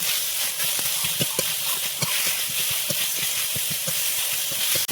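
Potatoes dropped into a pan of fried ginger paste in a village kitchen, giving a loud, steady hissing sizzle with scattered crackles and pops throughout.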